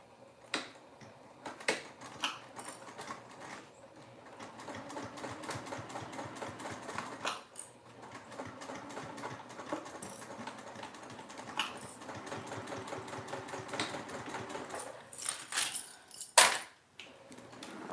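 Sewing machine stitching in rapid mechanical bursts, a fast clattering run interrupted by pauses and sharp clicks, close and fairly quiet with no speech.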